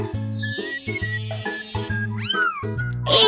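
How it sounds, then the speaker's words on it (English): A cartoon kitten in a Babybus children's math game meows several times in quick succession, bright and close, over a looping musical background, followed by a short rising chime. "It's my kitty."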